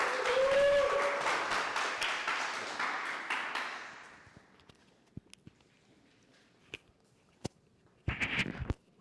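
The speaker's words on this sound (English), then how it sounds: "Can I get a round of applause?" Applause from an evening meeting audience before a talk on the discernment of spirits, a modest crowd clapping for about four seconds and then fading, followed by scattered isolated claps, small noises and a brief burst of sound near the end.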